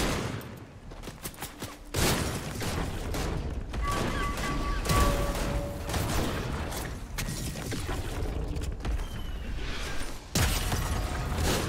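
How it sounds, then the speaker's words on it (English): Grenades go off in Fortnite with sharp, loud blasts around the two- and ten-second marks amid scattered gunfire and clattering debris, a voice murmuring faintly underneath. "Throwing grenades."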